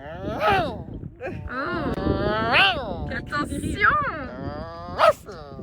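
A dog barks several times in an irregular pattern, close by and fairly loud, mixed with people talking and a brief whimpering note.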